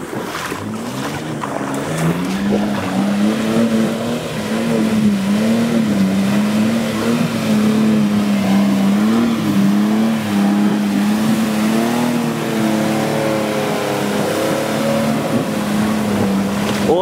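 A vehicle stuck knee-deep in a swamp revs its engine hard, a loud steady drone whose pitch wavers up and down as it strains, continuous for the whole stretch with faint background sounds.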